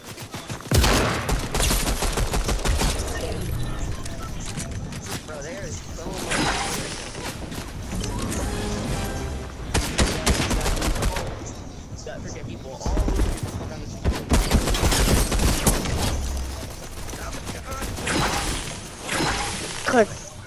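Sniper rifle fire in Fortnite, sharp gunshots cracking out amid busy game audio with whooshes and other gunfire, while players talk over the action.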